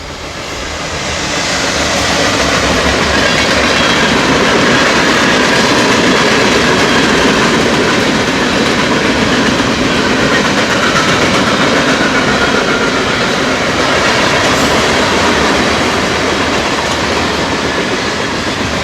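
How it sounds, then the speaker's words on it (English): A Union Pacific freight train rolls past close by, a loud continuous rumble of wheels with rhythmic clatter and occasional squeal that builds and holds. "Here comes the train."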